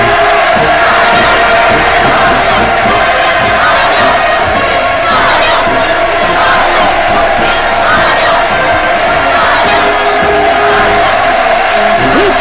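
A massive crowd in North Korea roars and cheers in welcome for a visiting Russian delegation, a dense, continuous wall of shouting voices that stays loud and unbroken throughout.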